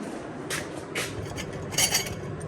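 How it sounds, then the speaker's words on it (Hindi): A metal spoon is picked up from a pot in a home kitchen. Several light, bright clinks of metal on metal sound at uneven intervals over faint background noise. "ये देखिए एक चम्मच उठा लेते हैं यहाँ से"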